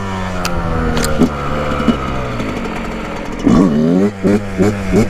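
A Yamaha YZ 125 two-stroke dirt bike during wheelie practice, its engine loud and close, buzzing steadily, then blipped with sharp rising throttle bursts in quick succession near the end.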